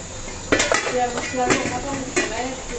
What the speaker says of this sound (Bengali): ঢাকনাটা নাও, ঢাকনাটা দাও, এতে ঢাকনাটা দাও। একটু ঢেকে দিই।